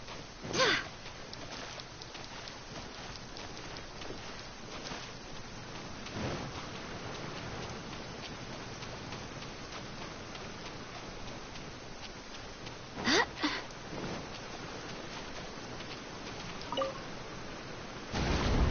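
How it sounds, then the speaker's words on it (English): Rain falls in the video game Genshin Impact as a soft, steady hiss with scattered drips, and a few brief louder taps stand out from the quiet wash. "The rain won't slow me down."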